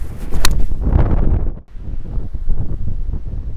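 Strong wind on a golf course roars in loud, steady broadband gusts that briefly drop away midway, then build again, with rustling noise and no talking.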